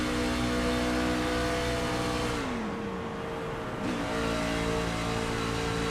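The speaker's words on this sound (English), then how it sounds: "Let's listen to that throttle to see if they're saving fuel or tires or what he's up to." A NASCAR truck engine in iRacing at Kansas drones steadily at high revs, dips briefly in pitch as the throttle lifts, then climbs back to a sustained roar.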